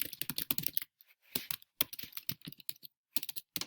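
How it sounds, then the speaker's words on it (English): Fast bursts of keystrokes on a computer keyboard, typing a Spanish sentence, with short pauses between clusters of clicks; close and clear with no talking. "the first sentence I'm going to type is Yo tengo 24 años"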